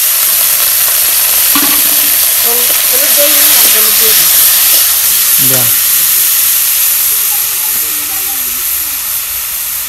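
Garam masala, cumin, ginger, garlic, onion, green and dried chillies sizzle and crackle steadily in hot oil for a local chicken curry, loud and continuous, with people talking over it at times.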